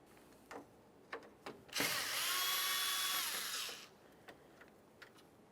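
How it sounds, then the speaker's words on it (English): A power screwdriver backs out Phillips head screws from the top of a 1994–1997 Honda Accord front grille, whirring steadily for about two seconds, with light clicks and taps before and after, fairly quiet and close. "We're going to remove the front grille by removing several Phillips head screws across the top"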